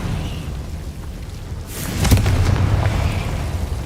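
A Confringo fire spell bursts into a booming explosion in the Hogwarts Legacy video game, a loud blast hitting midway over steady background rumble, with the roar trailing off afterward.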